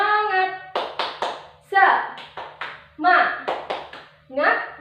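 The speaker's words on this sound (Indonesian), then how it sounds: "tepuk semangat." Classroom children perform a rhythmic cheer clap, sharp patterned bursts of hand claps alternating with group chanting voices, led by a teacher in an Indonesian school lesson.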